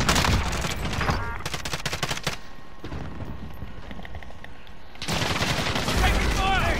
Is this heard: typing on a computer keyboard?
no